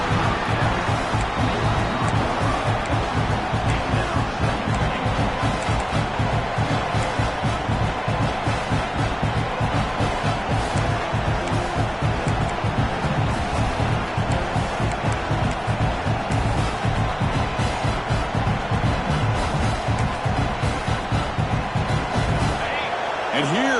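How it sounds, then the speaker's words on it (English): A football stadium crowd roars continuously during a Notre Dame versus Florida game, a dense, loud wall of noise lasting throughout with a commentator talking over it. "This crowd is trying to inspire this defense to make a big red zone stop."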